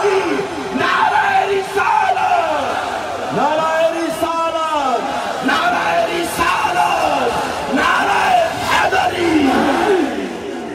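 A large crowd at a religious mehfil shouts slogans in praise of the Prophet in unison, loud repeated call-and-response bursts with brief pauses between each chant.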